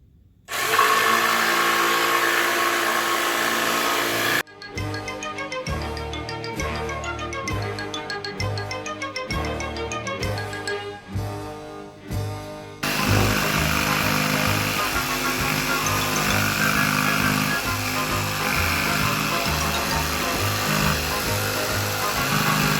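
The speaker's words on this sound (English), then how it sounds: "this is the kind of thing that you're going to use a jigsaw for." Jigsaw cutting through plywood in a workshop, a loud, steady buzzing cut that runs almost the whole stretch, with the tone shifting and stuttering midway before the saw settles back into a continuous drone.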